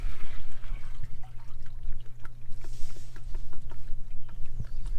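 Water from a sandpoint well pours into a sprayer tank of about 75 gallons, a continuous close splashing flow over a low steady hum.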